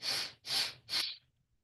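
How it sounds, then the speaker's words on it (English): Three sharp sniffs drawn in through the nose in quick succession during a seated chair-yoga breathing exercise, close and fairly quiet, each about a third of a second long, followed by a brief fade. "So 3 sniffs through the nose."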